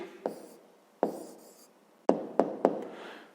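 Pen tapping and scratching on paper while an answer to a fifth-grade maths exercise is written out by hand, five distinct close ticks spaced irregularly with faint scribbling between them.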